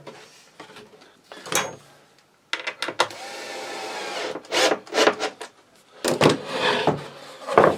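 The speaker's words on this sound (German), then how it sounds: "Und dann verschraube ich das Ganze von der Rückseite." A power driver drives screws through the back of a wooden drawer in a DIY workshop, with a few sharp knocks and scrapes and one sustained whirring run in the middle.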